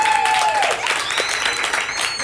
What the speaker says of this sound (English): So let's give these two young ladies a tremendous round of applause.